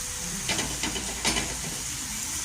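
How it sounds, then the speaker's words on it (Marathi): Garlic and green chilli tempering sizzling in hot oil for a fenugreek leaf (methi) bhaji, a steady quiet frying hiss with a few brief louder crackling bursts. "शेवायची खीर करणार आहे अशी मोदक तयार झाले आहे गणपती बाप्पाला शापूची हे सॉरी मेथीची भाजी तयार टाकली आहे लसूण आणि मिरचीची फोडणी दिली आहे तेलामध्ये"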